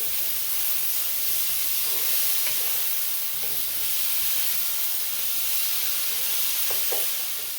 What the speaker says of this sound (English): now I'm going to add my already cooked leftover pork chops in